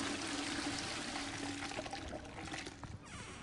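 A toilet flushes in Hogwarts Legacy with a loud, sustained rush of pouring water that thins out toward the end.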